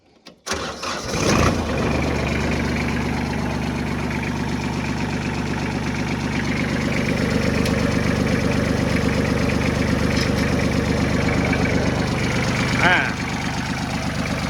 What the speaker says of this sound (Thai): ติดเครื่องดูนะครับ